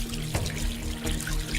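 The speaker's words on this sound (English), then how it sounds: "water flowing" Water runs from a bathroom tap in a steady, close stream with small splashes and trickles, heard alone.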